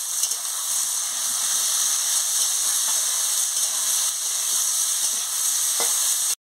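Vegetables fry in a pan with turmeric and salt, giving a steady, bright sizzle and hiss throughout with occasional faint stirring clicks, close and continuous.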